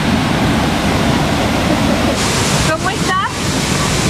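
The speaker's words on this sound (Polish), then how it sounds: "Schodzimy na dół pod wodospad." A waterfall at Canaima, Venezuela, gives a loud, steady broadband roar close by that fills the whole clip, with a brief voice breaking through near the end.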